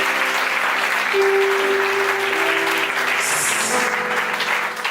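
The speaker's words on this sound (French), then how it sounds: "Clap for Lord. On acclame Clap for Jésus." A church congregation claps steadily and loudly for several seconds during a lively worship service, with a sustained held musical tone and faint voices underneath.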